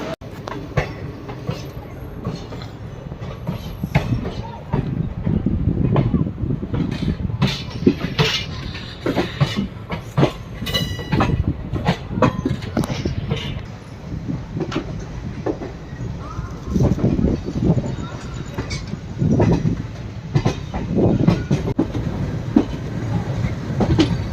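The Chemmozhi Express departs, rumbling and rattling steadily with rhythmic clacks of wheels on track, loud and close, with faint voices occasionally underneath.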